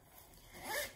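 A single quick zip as the zipper on a small Vera Bradley crossbody bag's pocket is pulled open, rising to a brighter rasp near the end, close and fairly quiet.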